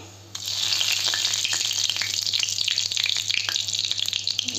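Whole panch phoron spices and a bay leaf hit hot oil with a sudden loud sizzle, then fry in a steady, crackling hiss with scattered pops close by, no voices.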